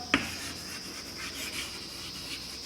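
A pen writes a letter on paper, soft close scratching strokes after a single sharp tap, steady and faint against a quiet room hiss, with no talking.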